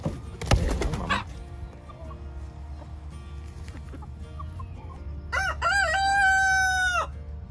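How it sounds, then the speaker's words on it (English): A rooster crows once, loud and near, late in the clip, after a burst of clucking and scratchy bird noise at the start over quiet farmyard background hum. "Who's crowing?"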